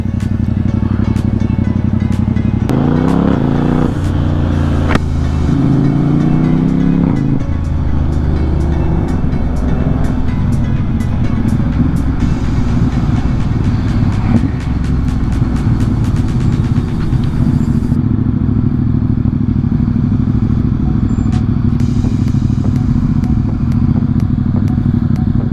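A group ride of Ducati motorcycles moving through Delhi traffic, loud close engine rumble and revving throughout, with other vehicles around and intermittent clicks and clatter.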